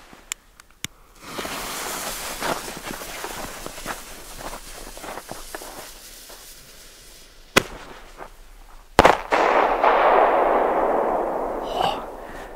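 A Weco Flashbang firecracker goes off outdoors: a few small ticks, then a sharp crack and a second, louder bang followed by a lingering noisy rumble.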